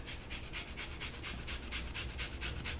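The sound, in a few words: zesting a lemon on a microplane grater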